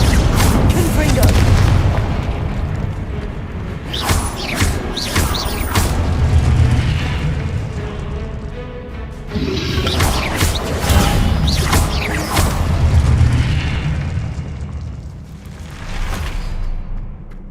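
Confringo blasting spell explosions in the video game Hogwarts Legacy, a series of heavy booming blasts and crashes in clusters, mixed with combat effects over a rumbling game soundtrack.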